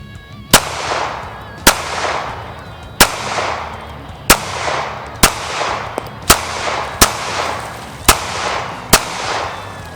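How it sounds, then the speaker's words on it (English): Ruger Security 9 pistol firing 115 grain steel-cased ammunition at an outdoor range from 10 yards, nine sharp loud shots spaced about a second apart, each with a brief ringing decay. "This time I'm at 10 yards and I'm shooting 115 grain tool ammo steel cased."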